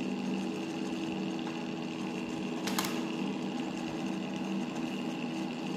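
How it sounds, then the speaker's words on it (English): A dual rotor BLDC motor runs on its inner rotor at 10 volts, giving a steady, even mechanical hum with a sewing-machine-like whir and one brief higher blip partway through. "here the motor is running."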